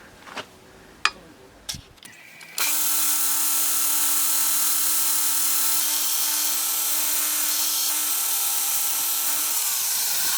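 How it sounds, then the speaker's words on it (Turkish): A few sharp knocks, then a power drill starts up and drills a knife guard for a handmade hunting knife, running at a loud, steady high-pitched whine for several seconds. "Şimdi diğer tarafı da aynı şekilde delelim."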